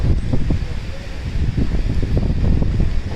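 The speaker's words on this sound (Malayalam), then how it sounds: "ഭയങ്കര കാറ്റാണ്." Strong wind gusting at a Rajasthan petrol pump during a motorcycle trip, a steady loud roar with low buffeting on the microphone throughout.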